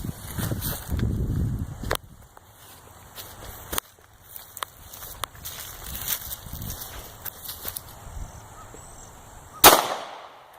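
A .45 ACP pistol firing again outdoors, one sharp loud report near the end after scattered quieter clicks, taps and handling sounds, with faint muffled talk early on.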